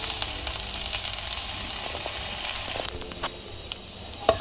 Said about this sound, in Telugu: ఇలా ఫ్రై చేసుకుంటే చూడండి